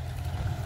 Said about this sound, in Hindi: ट्रैक्टर स्टार्ट हो गया, क्या शानदार आवाज है।